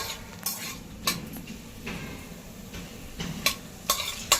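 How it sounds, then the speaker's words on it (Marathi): Cashews with cumin and whole spices frying in oil and ghee in a pan for matar pulao, a faint steady sizzle broken by several sharp spoon scrapes and clinks against the pan, with no talking. "आपण जिरं आणि खडे मसाले चांगले परतून घेऊया तेला तुपात"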